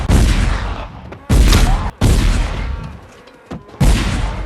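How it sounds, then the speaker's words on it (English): Gunfire from the 2000 movie Battlefield Earth comes in loud, close bursts of rapid shots, four heavy volleys separated by short gaps, with echoing tails. "Turl shows Johnny that he can shoot real good"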